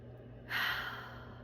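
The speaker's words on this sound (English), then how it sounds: "Let's take another deep breath in." One deep breath drawn in through the nose or mouth during a guided breathing exercise, a close, airy inhale that swells quickly and then slowly fades, heard alone.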